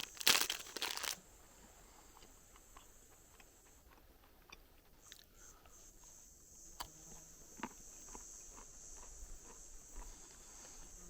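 A caraway cracker from a Lithuanian military ration is bitten with a loud, close crunch at the start, followed by quieter chewing against a faint background.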